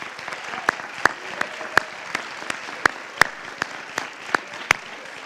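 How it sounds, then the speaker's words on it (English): Audience applause for graduating seniors at a school winter athletic awards event, a steady patter of clapping from a modest crowd with a few sharp nearby claps standing out, sustained throughout with no speech. "If we can just give our seniors a quick round of applause"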